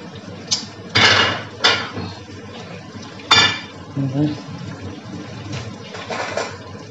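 Metal pots and lids clatter and clink in a home kitchen while soup and bulgur pilaf are being made, with several sharp knocks and scrapes spread over the moment and some quieter rattling between them.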